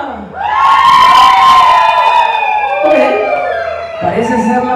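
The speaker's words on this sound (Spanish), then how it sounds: "A ver, grito de la familia Tejeda" A family group at a birthday party in a party hall shouts and cheers together, a loud burst of mixed adult and children's voices that rises quickly, holds, then breaks into scattered whoops and shrieks near the end.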